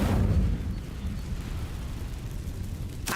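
An Incendio fire spell cast in the video game Hogwarts Legacy bursts with a heavy low whoosh and rumble that swells at once, then decays into a sustained crackling roar, with a brief sharp flare at the end.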